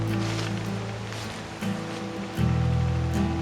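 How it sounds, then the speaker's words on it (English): Creek water flowing along the floor of a canyon near an old railroad dump, a steady broadband rushing wash that continues throughout, with a slight rise in level partway through and no speech. "You can also hear the creek behind me."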